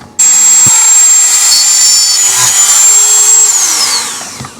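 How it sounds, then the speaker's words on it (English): A close, loud high-pitched whine from a small rotary tool drilling into a resin snowman decoration that holds steady for about three seconds, then winds down as the bit slows. "I'm going to take my rotary tool, and I have a drill bit in there already"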